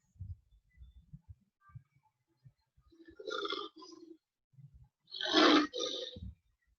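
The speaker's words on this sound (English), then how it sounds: "From a distance of 5 miles or 8 kilometers, the roar of a lion can be heard." A lion's deep, rumbling roar sounds twice from some distance, the second louder and longer, after scattered low grunts.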